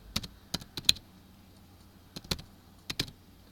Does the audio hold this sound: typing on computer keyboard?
yes